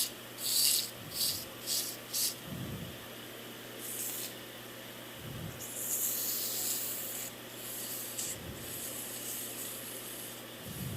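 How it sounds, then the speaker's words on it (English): Sandpaper rubs back and forth against a wooden Christmas ornament in short, irregular hissing strokes by hand, fairly close, with quiet pauses between passes. "And so now you can do your final sanding."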